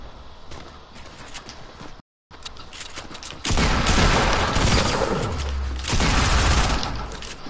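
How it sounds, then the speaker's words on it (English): Dense game gunfire from Fortnite erupts after a brief silent gap, a loud sustained barrage of rapid shots and impacts that stays close and heavy for several seconds. "I'm getting shot up."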